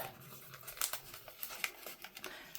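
Paper folded up by hand in a craft project, soft crinkling and rustling with a few sharper crackles, close and quiet.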